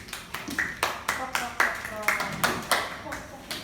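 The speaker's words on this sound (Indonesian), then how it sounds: "Kita kasih tepuk tangan pada temannya" A classroom of sixth-grade pupils claps for a classmate in a short burst of about a dozen distinct, uneven claps spaced roughly a quarter second apart, close and fairly loud with some voices mixed in.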